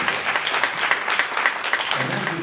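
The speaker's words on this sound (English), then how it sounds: "Another round of applause." Audience applause after a band introduction of guitar, drums, washboard and tuba at an annual gala orchestra concert, a steady dense clapping wash that continues throughout at moderate loudness.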